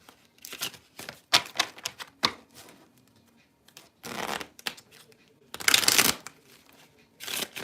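Romance Oracle cards being shuffled in several bursts, crisp riffling and flicking of the deck close by, separated by brief pauses with no talking.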